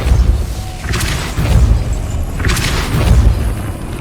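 In the video game Hogwarts Legacy, a Depulso spell blast fires twice, a second or so apart. Each one is a loud booming burst with a bright crackling edge over a steady low rumble.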